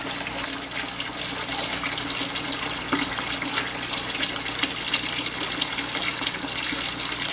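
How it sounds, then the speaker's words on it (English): Tap water runs steadily into a bucket for an aquarium sand bed build, a continuous close splashing rush with no talking. "while we're waiting for this bucket to fill"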